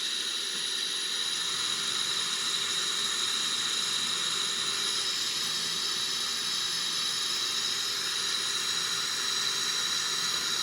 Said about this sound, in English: So I'm gonna start the left engine first.